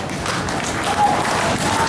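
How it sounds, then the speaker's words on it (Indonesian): An audience at a USNO political gathering gives a standing ovation, with dense, continuous clapping filling the space throughout while a voice carries over it. "memberikan tepukan gemuruh"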